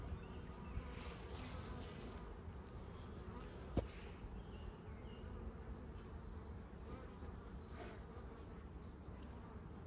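Honey bees buzz steadily around a hive, a faint, even drone holding throughout, with one sharp tap near the middle.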